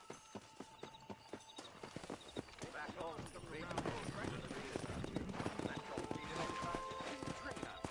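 Horse hooves clip-clop steadily through a Red Dead Redemption video game ride, with a horse whinnying and voices and background sound running underneath.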